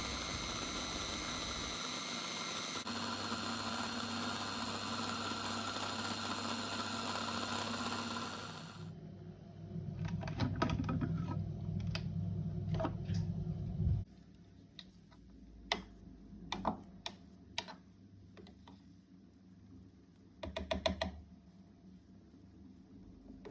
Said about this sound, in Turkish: Ara ara robotumu dinlendirerek yaklaşık 5 dakika boyunca çiğ köftelerimi istediğim kıvama gelene kadar çekiyorum.